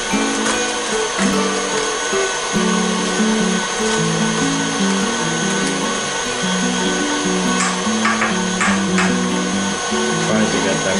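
An electric mixer beats pumpkin bread batter with melting sugar, producing a steady, loud motor whir with a rough, grinding texture that runs unbroken throughout.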